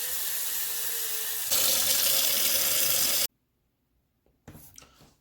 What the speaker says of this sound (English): if you get a nice pan, put some water in it.